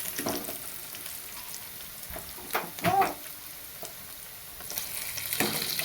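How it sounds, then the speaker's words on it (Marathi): Mandeli fish frying crisp in hot oil crackles and sizzles steadily, with occasional stirring clatter and a louder burst midway. "आता काढून घेते मस्त खरपूस तळलेत आता"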